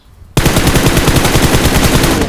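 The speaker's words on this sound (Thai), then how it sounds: "ยิงขู่ก่อน" Rapid automatic gunfire from the mobile battle-royale game PUBG Mobile on the Nusa map, a loud, dense stream of shots that bursts in suddenly after a quiet moment and keeps going without a break.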